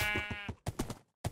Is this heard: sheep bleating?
yes